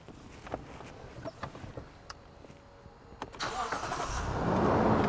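A Lexus GX460 gets underway: close interior clicks and a whirring power window give way to a rising engine and road rumble that builds steadily louder as the vehicle moves off.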